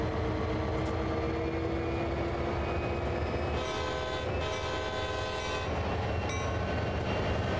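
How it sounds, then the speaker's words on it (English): A freight locomotive in the Train Sim World 2 railroad game, on the Sand Patch Grade, sounds its horn in two sustained blasts over a steady rumbling engine and rolling-wagon hum, without speech. "Two blasts of horn."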